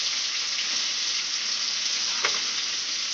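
Tomato hitting hot spiced oil in a pan while cooking cholar daal sets off a loud, dense, continuous sizzle close by, with a brief stirring scrape partway through.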